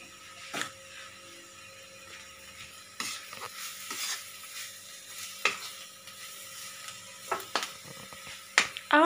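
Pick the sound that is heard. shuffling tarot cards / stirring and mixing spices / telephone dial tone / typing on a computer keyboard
stirring and mixing spices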